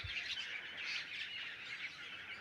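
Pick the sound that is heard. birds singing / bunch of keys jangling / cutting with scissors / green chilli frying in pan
birds singing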